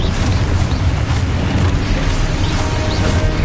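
Blasting-spell explosions in the Hogwarts Legacy video game, a loud dense roar of booming bursts and crashing debris that carries on without a break and with no talk.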